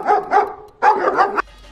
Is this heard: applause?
no